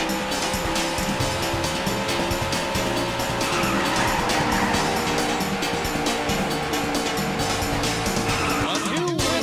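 Race car engines roar steadily in the Daytona USA video game, with tire squeal and passing cars layered over the dense, continuous mechanical noise; a voice may be present beneath.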